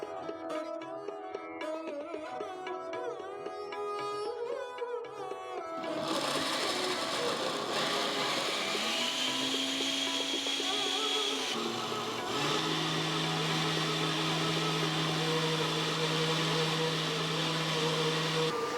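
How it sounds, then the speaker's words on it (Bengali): Prawns ground into a fine paste in an electric mixer grinder, a loud steady motor whir that shifts pitch partway through after an earlier stretch of other machine noise, with no voices. "প্রথমত, চিংড়ি মাছ মিহি করে বেটে নেব"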